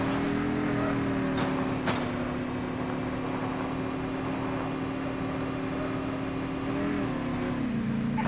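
Vehicle engine in Call of Duty Mobile: a steady droning motor hum with a sustained tone that shifts slightly in pitch near the end, continuous and fairly loud, with no talk.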